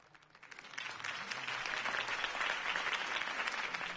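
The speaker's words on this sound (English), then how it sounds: "could have heard that applause" Crowd applause at a Harvey Dent campaign rally in the Batman Telltale video game, swelling up after a quiet start into steady, dense clapping.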